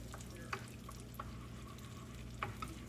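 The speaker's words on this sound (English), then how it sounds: "Eggs are cooking." Eggs cook and scramble in a pot for shrimp fried rice, a faint low sizzle with occasional soft stirring scrapes and taps, no voices.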